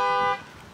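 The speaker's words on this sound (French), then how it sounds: "Petite alarme de voiture derrière" A car alarm sounds in the background as a steady electronic tone, fairly clear for a moment before cutting off abruptly and leaving quiet room noise.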